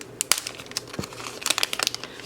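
Shiny envelopes are handled and opened close up, giving a run of crisp crinkling and rustling with sharp papery clicks and tears, no voices over it.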